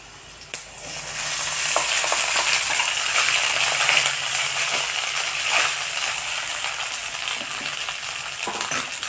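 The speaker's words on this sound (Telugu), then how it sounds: "ఇప్పుడు ఫ్రై చేసుకుందాం" Thinly sliced garlic and ingredients for moringa leaf rice frying in hot oil, a steady loud sizzle with a few scraping stirs and light clinks throughout.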